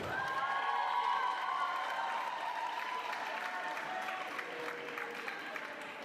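A graduation ceremony audience at UnBQ claps in sustained, moderately distant applause that gradually softens over several seconds.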